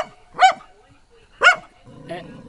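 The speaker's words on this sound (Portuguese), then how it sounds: "A cachorrinha tá furiosa" A small female dog barks furiously at a boa constrictor: two sharp, loud barks about a second apart, then a softer yelping bark, close by with little else around.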